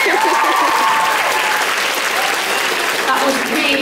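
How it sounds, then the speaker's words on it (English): A large live crowd at a London fan event claps for itself, loud sustained applause filling the room, with a voice speaking faintly over the clapping. "Give yourselves a little clap."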